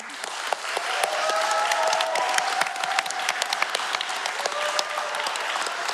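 An audience at a talk about strategies for a better world claps for several seconds, a dense, lively patter of many hands with faint voices and cheers mixed in.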